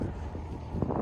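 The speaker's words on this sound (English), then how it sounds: "It's windy." Wind buffets a Hallberg Rassy 352 sailboat on an overnight passage in cool air of about 14 °C. It makes a steady, close, rumbling gust noise against the microphone, with a brief stronger blast near the end.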